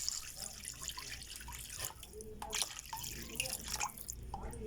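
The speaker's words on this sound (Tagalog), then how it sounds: "lagyan natin ng tubig" Water pours into a cooking pot while spicy Korean cantoon noodles are being made, giving a steady close trickle and splash with scattered drips that runs for a few seconds.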